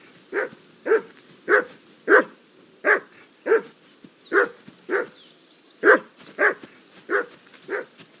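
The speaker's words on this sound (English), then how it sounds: "I assume you can hear that damn dog of yours barking." A dog barks in a medieval village setting in Kingdom Come Deliverance 2, giving about a dozen loud, evenly spaced single barks close by, with nothing else competing.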